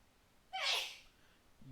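A single sharp sneeze bursts out close to the listener, a short, loud hiss over a quiet background.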